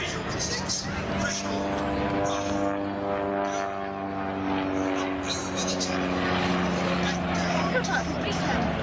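Propeller aircraft flying aerobatics such as a snap roll at the top of a loop at an air festival in Weston, its engine drone steady and moderately distant beneath continuous commentary and crowd babble.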